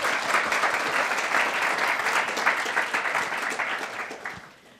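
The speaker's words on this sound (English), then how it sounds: "A little round of applause." Audience applause at a New School panel event, steady dense clapping from a seated crowd that holds for several seconds and then begins to taper off at the end.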